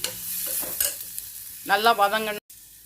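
Ingredients sautéing in a pan for thattai payaru (black-eyed pea) rice: a soft sizzle with scraping stirring strokes, then a brief louder rattling burst of spatula against pan before cutting off abruptly.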